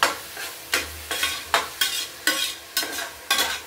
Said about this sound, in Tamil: கொஞ்சம் நல்லா வதங்கட்டும். வெங்காயம் வதங்கிடுச்சு.